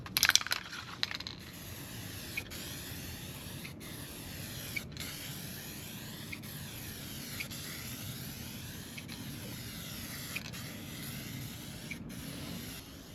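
An aerosol can of spray paint hisses in a long, steady, fairly quiet stream as it coats an alloy wheel, with a few clicks and short breaks.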